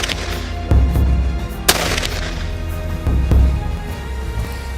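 A hunting rifle is fired at a giraffe, with a few sharp, heavy reports and booming echoes spread over a few seconds, set against a steady outdoor background.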